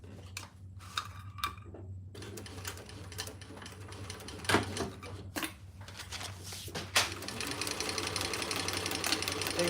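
A sewing machine hums continuously while basting around a fabric divided basket, close and moderately loud, with occasional clicks and handling bumps.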